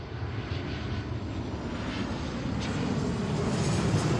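A large airliner arriving on runway 34L at Seattle, its engines a loud continuous roar close by that swells slightly toward the end, with no talk.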